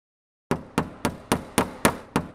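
Seven sharp hammer blows strike in a steady rhythm, each a crisp knock with a short decay, close by, after a brief silence, as nail plugs are driven into concrete to fix battens for a nailed wooden floor.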